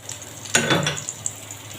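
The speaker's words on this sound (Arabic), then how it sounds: "بعد ما حطينا التوابل هنقعد نقلب بقى كده البيض مع الخضار" Eggs and vegetables seasoned with salt, pepper, cumin, dried coriander, chili and dried mint are stirred in a pan, with a soft sizzle under a brief burst of scraping and frying near the middle.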